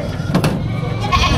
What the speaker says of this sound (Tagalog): Tatlong kambing na.